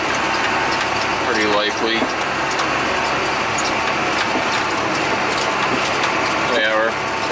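A vehicle drives through a thick hay field during a first cutting, its steady engine drone and rustling crop filling the clip beneath a person talking throughout.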